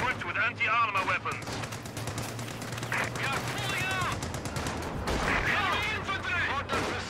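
Rear-mounted machine gun on a tank in Company of Heroes 2, firing in steady rattling bursts across the whole stretch, fairly loud, with someone talking over it.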